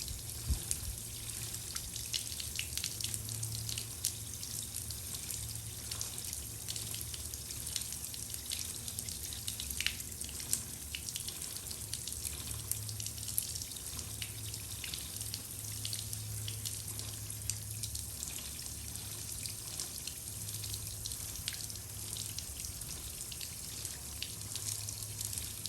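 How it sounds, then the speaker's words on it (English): A steady stream of water hisses and patters while rinsing the chain of a 2022 Yamaha MT-09 motorcycle, an even, continuous spray at close range lasting throughout with faint dripping. "Just a nice steady stream, get all the crap off."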